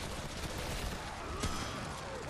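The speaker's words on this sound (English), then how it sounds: "I'm getting shot at." Enemy gunfire in Remnant: From the Ashes forms a dense, continuous rattle of rapid shots, loud and close throughout, with one sharper crack standing out midway.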